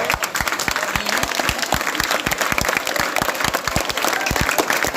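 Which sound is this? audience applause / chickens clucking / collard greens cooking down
audience applause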